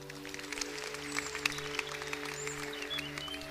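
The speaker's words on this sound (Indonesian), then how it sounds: "Kita beri tepuk tangan." Faint applause from a church congregation during an Indonesian sermon, soft scattered clapping over a steady low tonal hum that runs throughout.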